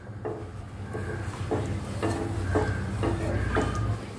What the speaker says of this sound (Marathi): याला असं कंटिन्युअसली हलवत राहायचं आहे नाहीतर कॉर्नफ्लोअर असल्यामुळे लगेच हे तळाशी लागू शकतं